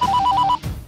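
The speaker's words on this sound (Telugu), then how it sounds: "వానికి ఫోన్ కలిపిరా." A telephone rings with a rapid trilling electronic bell, one short burst close by and alone, then quiet.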